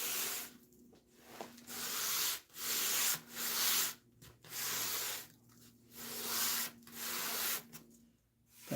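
Hand sanding of a cabinet door before painting: steady back-and-forth rasping strokes in an even rhythm, each lasting about a second, close up and with no voices.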